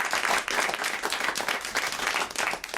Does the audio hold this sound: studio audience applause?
yes